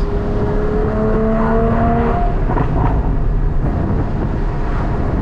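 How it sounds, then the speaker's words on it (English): A Porsche Cayman GT4 with Dundon race long-tube headers and a catless exhaust drones loudly up close, with a few crackling backfire pops breaking through the engine roar. "Nice amount of backfires with the Dundon long tubes."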